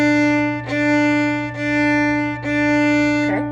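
A bowed string instrument plays a sustained, harmonically rich tone in three long strokes with brief dips between them and a quick wavering slide at the end.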